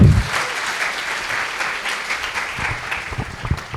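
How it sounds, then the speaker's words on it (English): A round of applause from a conference audience at an innovation conference's inaugural ceremony, dense steady clapping filling the room at an even level from start to finish. "A huge round of applause for Temi over here!"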